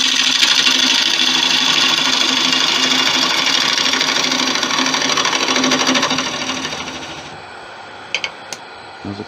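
A woodturning gouge hollows out a piece of 5000-year-old bog oak spinning on a lathe, giving a continuous rough scraping buzz over the motor hum that fades after about six seconds, then a few sharp knocks.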